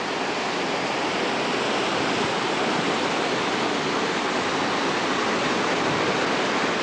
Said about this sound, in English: So I just thought I'd get another view of this beautiful little stream.